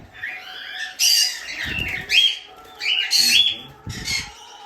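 Java sparrows chirping in bursts of bright, squeaky calls, several close-up phrases with short pauses between them, alone with no talking.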